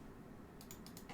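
A short quick run of clicky keystrokes on a computer keyboard, about five taps in a row after a moment of quiet room hiss, close but faint.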